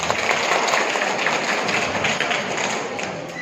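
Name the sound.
applause from the audience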